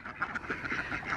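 Ducks quack softly around a muddy patch where they bathe, a few short, fairly distant calls over a continuous low outdoor background.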